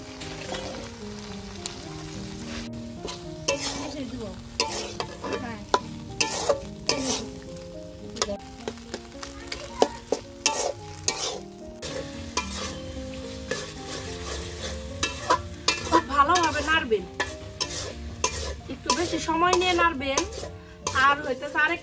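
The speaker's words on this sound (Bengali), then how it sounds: "মাছটা খুব ভালোভাবে কষিয়ে নিচ্ছি" A hilsa fish head is stir-fried in oil in a pan for Bangladeshi kochu shak, with a continuous sizzle broken by frequent close clattering spatula scrapes and stirs against the pan.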